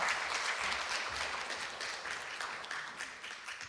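Audience applause at a Korean book launch event on 5·18 truth-finding, a steady, fairly distant patter of many hands clapping in a hall, gently fading.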